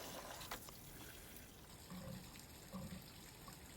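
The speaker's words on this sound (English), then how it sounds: "And more rinsing." Water runs and trickles as a wedding dress is rinsed in a tub, a faint, steady splashing flow with a few soft sloshes and drips, quiet and close with no talk.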